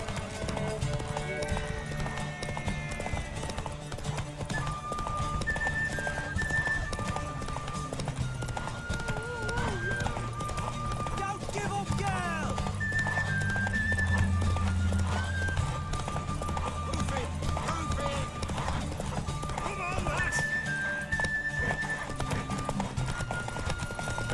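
Rhythmic hoof clip-clop of a horse in the video game The Witcher 3: Wild Hunt over steady background music, with occasional whinnies and spoken voices mixed in.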